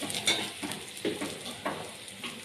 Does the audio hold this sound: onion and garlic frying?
yes